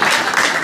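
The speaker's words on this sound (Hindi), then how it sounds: "और चाहे तो तालियां बजा सकते हैं" Audience applause at an Urdu poetry mushaira in London: a brief, dense wash of clapping that stays steady and fairly loud throughout, with no voices.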